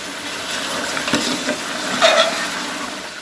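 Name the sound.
chicken frying in a pan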